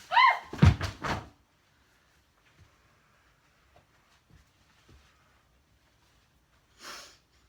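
A pile of books drops, with several loud, close thumps bunched in the first second, followed by a mostly quiet room with a few faint small knocks and a short rustling sniff near the end.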